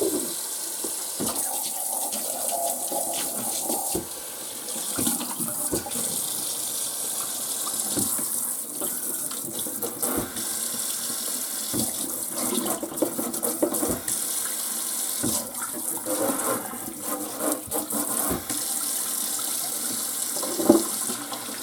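Tap water running and gushing into a sink while freshly gutted and cleaned fish from Ashokan Reservoir are rinsed, a continuous splashing flow with intermittent knocks and handling sounds.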